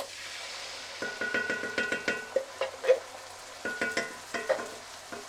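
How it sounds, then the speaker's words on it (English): Canned tomatoes going into a pan with parsley for a rosa sauce, with a soft sizzle under repeated spoon stirring and scraping strokes that come in quick rhythmic bursts. "add the parsley in, and then we're going to add the can of tomatoes"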